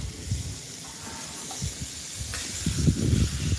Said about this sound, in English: We pretty much sear them on both sides, pull them off.